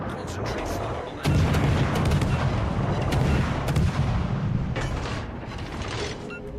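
Heavy naval artillery from warships in the World of Warships: Legends game, a dense continuous rumble of booming salvos and mechanical clatter that jumps louder after the first second and stays loud throughout.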